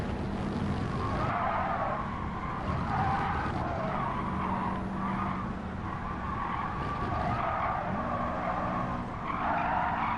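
Race car tires squealing and skidding through a long hairpin in Gran Turismo 7, loud sustained screeching in repeated waves over a continuous engine roar.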